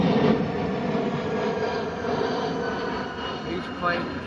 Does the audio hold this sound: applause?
no